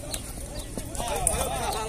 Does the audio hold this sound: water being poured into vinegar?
no